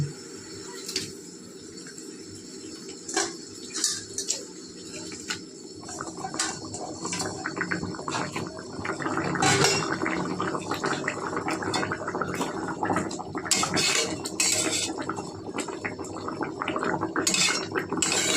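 Papda fish dropped into a pot of boiling mustard curry, a steady bubbling simmer that grows busier and louder midway, with scattered splashes and light clinks of utensils against the pot.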